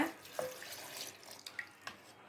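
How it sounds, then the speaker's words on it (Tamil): Boiled and cooled milk is poured into a mixer jar holding beetroot, heard as a faint liquid trickle with a few soft drips and splashes. "இந்த பாலை வந்து இதில் ஊற்றிக்கோங்க"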